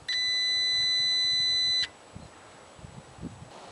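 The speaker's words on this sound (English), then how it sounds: "Touch the two probes together to make sure that the digital multimeter continuity setting is working, which will make a beep sound." A digital multimeter on its continuity setting gives one steady electronic beep lasting under two seconds as its probes touch, then cuts off, leaving quiet room noise.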